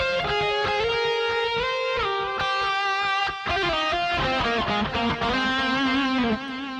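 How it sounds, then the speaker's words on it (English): Electric guitar played through a Rocktron Prophesy II multi-effects unit with echo, a steady stream of sustained, slightly distorted notes with repeating delay tails, loud and continuous with no talking. "we can get a sound with some nice echo, really beautiful echo sounds always coming out of the Rocktron effects."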